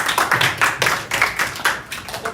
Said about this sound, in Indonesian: Tepuk tangan dulu untuk temannya.